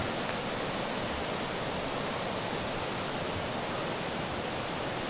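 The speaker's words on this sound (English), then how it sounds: "Just the sound of the river" A river in a remote, mountainous area of the Philippines flows in a constant broadband rush, steady and fairly close, with no pauses and no voices over it.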